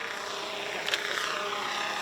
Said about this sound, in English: Taiwan's military made history by using this drone helicopter for the first time in a military exercise